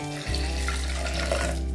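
Water being poured into a pot of mutton, a steady splashing gush that starts abruptly and runs continuously at close range, no talking.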